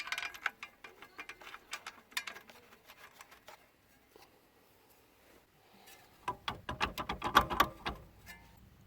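A ratchet clicks while a bolt is driven into the exhaust mount of a four-stroke Chinese scooter (Jinlun), with scattered quiet ticks at first and then a louder burst of rapid clicking near the end.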